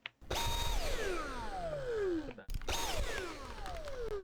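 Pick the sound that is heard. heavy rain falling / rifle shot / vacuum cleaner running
vacuum cleaner running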